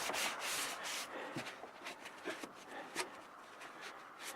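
Sealant rubbed and blended into a roof during a repair, a steady close scraping and rubbing with rhythmic strokes that runs throughout, fairly loud and heard alone.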